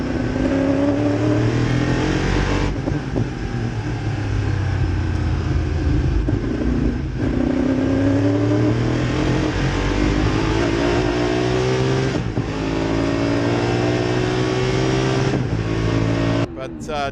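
A race car engine at maximum power charges between turns on a circuit, with a loud, continuous high-revving whine rising through repeated gear pulls and brief shift dips, close and dominant throughout.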